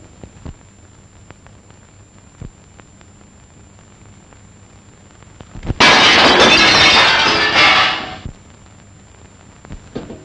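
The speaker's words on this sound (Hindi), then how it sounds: "शीशा किसने तोड़ा" Glass shattering in one loud, bright crash that lasts about two seconds and then cuts off, after quiet ticking background noise.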